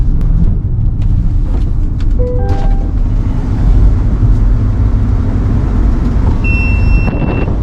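A Chevrolet Corvette E-Ray on a race track gives a loud, steady low engine and road roar throughout, with a few brief tonal whines, heard from nearby without talk.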